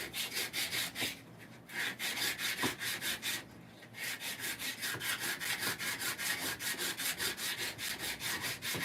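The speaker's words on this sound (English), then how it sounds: "I'm going to give this a quick wipe with sandpaper" Sandpaper scrubs back and forth over a black-finished wooden surface in a steady, quick rhythm of rasping strokes, loud and close, with two brief pauses and no talking.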